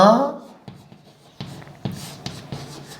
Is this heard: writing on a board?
yes